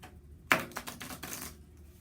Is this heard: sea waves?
no